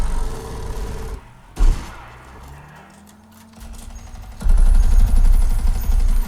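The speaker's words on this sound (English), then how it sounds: "the gunfire is very, very nice sounding" Bursts of gunfire from a World War II action film soundtrack, with a sharp crack and thud, a quieter stretch of lingering echoes and rumble, then a loud sustained barrage of rapid shots near the end.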